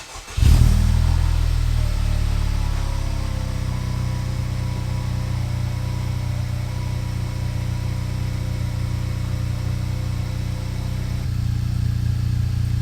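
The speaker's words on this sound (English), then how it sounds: "Let's go ahead and get this cold start." Honda Civic Type R FK8 with a new downpipe and fresh tune cold-starts: a sharp crank and flare, then a loud, steady low idle drone that holds for over ten seconds, slightly swelling near the end, with no talking.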